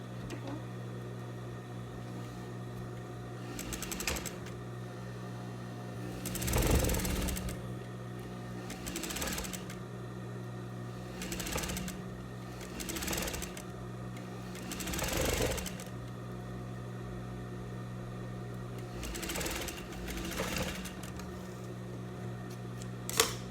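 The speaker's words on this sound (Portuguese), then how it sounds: "Já vou costurar aqui o outro recorte também do outro lado." A sewing machine runs in repeated bursts while stitching a viscose fabric dress panel, with steady humming runs separated by brief pauses and a louder stretch near the middle.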